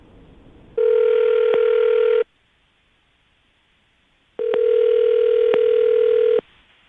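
Two long steady electronic ring tones sound close and loud, separated by a short silent gap, like a phone line ringing out.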